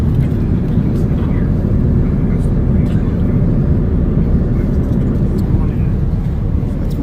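Airplane cabin noise in flight on a passenger jet bound for Amsterdam: a loud, constant, low roaring drone fills the entire clip without any pause, with faint small clicks and cabin sounds over it.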